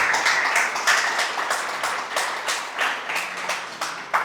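A church congregation claps along at a worship service, a dense, steady wash of many hands with crisp individual claps popping through, loud and close, continuing without pause and without talk.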